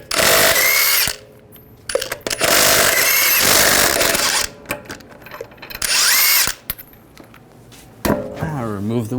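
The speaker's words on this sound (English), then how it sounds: "Using a 22mm socket, we're going to take the lug nuts off." A power tool on a 22mm socket spins lug nuts off a 2011-2018 Ram 1500 front wheel, whirring loudly in four separate bursts with short quiet gaps between them.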